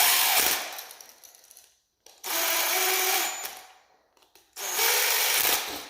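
A power drill tightens the terminal screws on a 15 amp, 110 V electrical outlet receptacle. It whirs up close in three sustained bursts of about a second or more each, with short quiet gaps between them.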